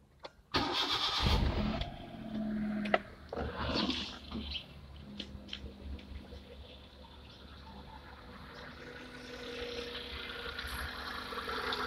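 A Hyundai Eon car engine cranks and catches with a burst of noise, then settles into a low, steady idle during an ignition system test.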